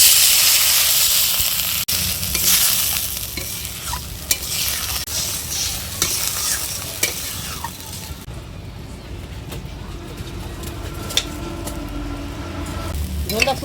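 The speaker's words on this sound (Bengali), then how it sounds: "জল দিয়ে দিই।" Water poured into a sizzling pan of raw banana kopta curry, with loud hiss and frying crackle dying down into a steady bubbling simmer, plus occasional stirring clinks.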